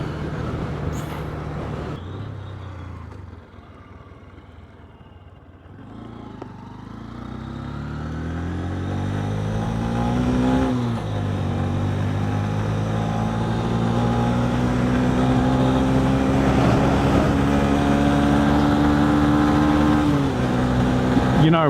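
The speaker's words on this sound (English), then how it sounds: "Normally I really struggle to get the bike up to 80 k's in third. It just did it." A Honda CB125F motorcycle accelerates hard in third gear, the engine note climbing steadily in pitch after a gear change, loud and close over wind and road noise.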